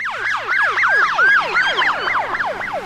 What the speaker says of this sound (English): the Doppler effect of a siren passing you